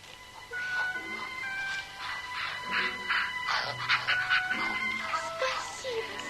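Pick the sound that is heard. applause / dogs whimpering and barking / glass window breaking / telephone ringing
dogs whimpering and barking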